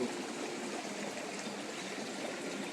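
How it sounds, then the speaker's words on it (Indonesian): A forest stream in a valley in Indonesia, passed on a night hike to a campsite, rushes and trickles steadily: a dense, even wash of flowing water close by, with no voices. "Kita melewati lagi aliran sungai."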